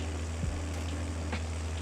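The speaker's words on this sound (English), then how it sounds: "It's really throaty, this tractor." Throaty tractor engine idling steadily in the Farming Simulator video game, a low continuous rumble with faint intermittent clicks.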